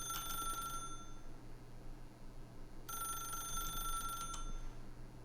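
A telephone in the video game The Stanley Parable rings in two separate bursts of clear, bright electronic trills, with a quiet pause between them.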